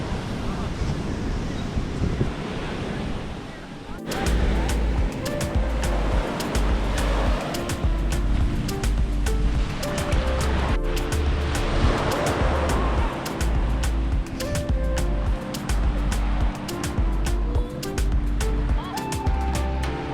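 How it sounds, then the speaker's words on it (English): Surf breaking at Hymes Beach on the NSW South Coast, a steady loud wash of waves with heavy wind rumble on the microphone throughout, close and continuous. "we are down at Hymes Beach, and Hymes Beach has the whitest sand in the world"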